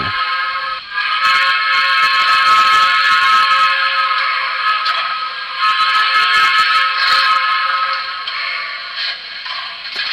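A shrill, sustained model steam locomotive whistle blares almost continuously, loud and close, with slight wavering and a few brief dips in volume.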